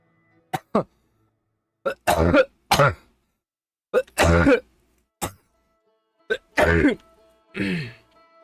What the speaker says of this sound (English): the coughing fits just come every now and again from whatever cold I have